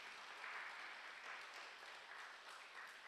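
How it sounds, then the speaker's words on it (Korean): Steady applause from a congregation at a Friday prayer service in a church, a dense, even wash of many hands clapping sustained through the whole moment, moderately distant with no voices over it. "여기 계신 선생님들을 위해서 박수 한 번만 보내주시면 좋을 것 같습니다"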